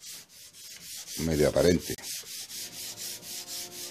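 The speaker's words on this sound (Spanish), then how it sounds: "aquí le estoy dando un lijadillo" Hand sanding of wood with worn sandpaper, about 100 grit after starting at 80, a steady rhythmic rubbing at close range that repeats through the clip, with a brief burst of speech in the middle.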